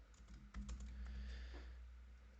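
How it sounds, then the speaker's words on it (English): Close, rapid typing on a computer keyboard while coding MetaTrader 5 software, with dense key clicks over a low hum. "by just typing here"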